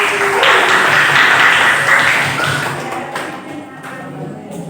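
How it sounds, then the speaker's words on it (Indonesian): Students in a classroom applaud a group after its presentation on function composition, a loud burst of clapping that thins and fades over a few seconds. "tepuk tangan untuk kelompok"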